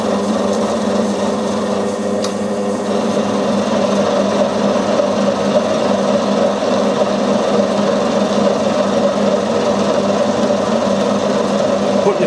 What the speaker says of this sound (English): machining the ends of the 2 blocks square